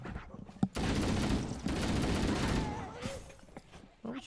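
Dense gunfire from the original Halo video game, a sustained burst of rapid shots lasting a few seconds after a single sharp crack, loud and close with faint voices around it.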